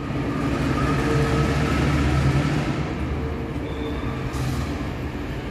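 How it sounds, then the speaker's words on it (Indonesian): The Sri Tanjung train's service locomotive shunts at Surabaya Gubeng station, a loud, close, steady rumble of engine and rolling stock with faint metallic squeals over it. "baru saja lokomotif dinas kereta api Sri Tanjung sudah dilakukan proses langsiran ya"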